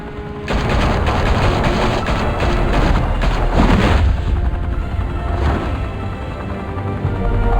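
Gunfire erupts in the Batman Telltale Series video game, a loud, close barrage of rapid shots and heavy booms that carries on steadily without any voices.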